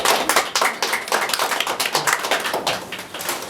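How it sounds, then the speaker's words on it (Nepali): An audience clapping to welcome a guest, a businessman and artist, at a political gathering, a close, brisk run of uneven handclaps from a small crowd that holds steady throughout. "त्यसै गरी ताली बजाइदिनु।"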